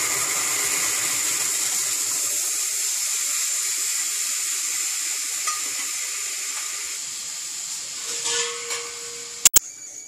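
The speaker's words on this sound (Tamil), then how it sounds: "இந்த கரைச்சி வச்ச பருப்பு தண்ணியை விடலாம்." Liquid from dissolved lentils poured into a hot pan for rasam gives a steady, close hiss and sizzle that runs throughout, with a few faint clinks near the end; no voices.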